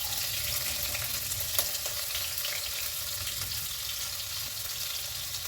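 Chopped onions and green chillies sizzle steadily in hot oil with mustard seeds for an aloo matar tomato curry, a continuous close frying hiss with faint crackles and no talking.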